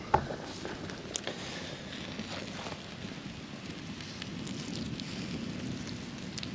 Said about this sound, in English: every now and then the wind picks up and it really heats up the fire